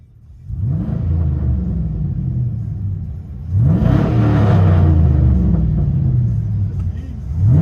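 A GMC Sierra Denali with a 6.0L V8 and true dual straight-pipe exhaust rumbles loudly from inside the cab, idling deep and steady before a strong rev swells the drone, which then holds high and settles back.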